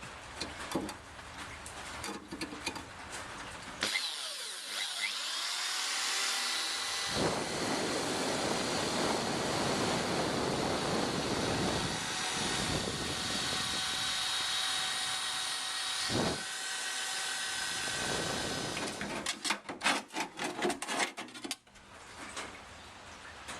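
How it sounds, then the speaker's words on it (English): A high-pitched spot drill whines almost continuously for about twenty seconds, drilling out spot welds on a 1960 Chevrolet Impala at close range, with brief clattering handling noises near the end. "So I'm just going to get my spot drill and start drilling those out."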